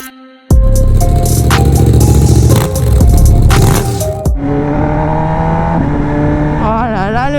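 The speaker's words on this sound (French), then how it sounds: "Quand j'accélère sur cette moto, moi j'ai des frissons." MV Agusta Brutale 1000RR motorcycle accelerating hard from a standstill, a loud, close engine roar rising through the gears with quick shifter changes, then settling into a steady, high-pitched drone.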